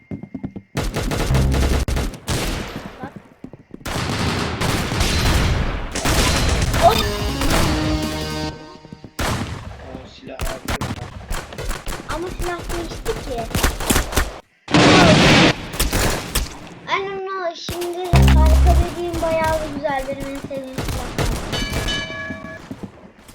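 Bursts of rapid gunfire in the Roblox game Arsenal, loud repeated volleys and single shots with short gaps, game sound effects mixed between them.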